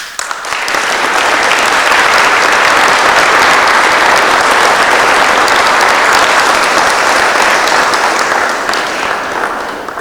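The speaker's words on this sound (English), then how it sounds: "let's give them a big round of applause" A big round of applause at a foundation's first awards ceremony, loud and dense clapping that swells in quickly, holds strong for several seconds, then begins to ease near the end.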